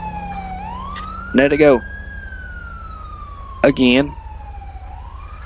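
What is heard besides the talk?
ambulance siren in video game LSPDFR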